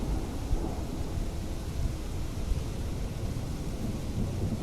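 Heavy rain and thunder in the video game Untamed, a dense steady roar of downpour with deep rumbling throughout, loud and continuous with no voices.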